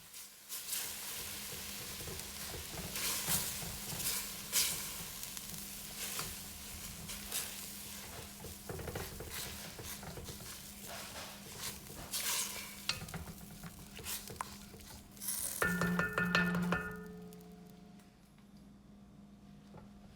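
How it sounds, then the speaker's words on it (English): A wooden spatula scraping the bottom of a pot after water is added, with repeated scraping strokes over a faint sizzle and a louder bubbling burst near the end, close, with no speech. "You're going to scrape the bottom of the pot with a wooden spatula."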